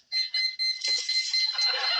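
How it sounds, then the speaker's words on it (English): A high-pitched electronic beeping tone repeats in short bursts, close and fairly loud, then blurs into a continuous warbling chirp. "My beeper. My beeper's beeping."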